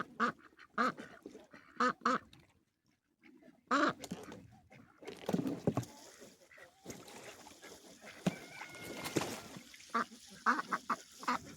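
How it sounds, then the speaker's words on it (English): A large duck quacks repeatedly as it comes out to jump into a backyard pool on a homestead, honking calls in short bursts, fairly close, with some splashing and rustling and a person talking in between. "You're going to see my big hoppy duck come out and jump in here in just a moment"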